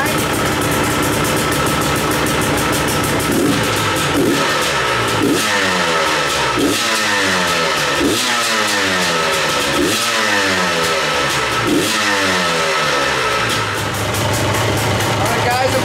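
A KTM 300XC-W two-stroke dirt bike engine with a freshly fitted head fires up and idles in a fast, buzzy patter, then revs repeatedly in sharp bursts that rise and fall, loud and close throughout.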